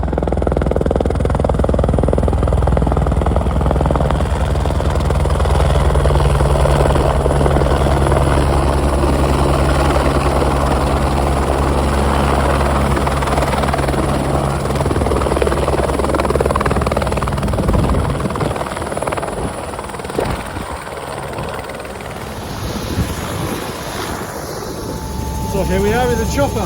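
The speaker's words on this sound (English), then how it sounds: "So here we are in the chopper." Inside the cabin of a helicopter in flight, a loud, continuous rotor and engine drone with a deep low hum holds steady, then its tone shifts slightly near the end.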